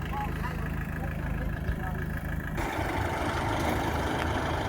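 A tractor engine idles steadily in a field, its low rumbling drone continuous and fairly close throughout, with the tone shifting slightly partway through.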